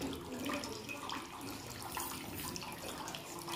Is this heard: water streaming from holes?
yes